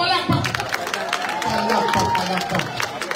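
A crowd at a Duterte gathering in Chicago breaks into clapping and cheering, a lively mix of hands and voices close by, with talk and calls running through it.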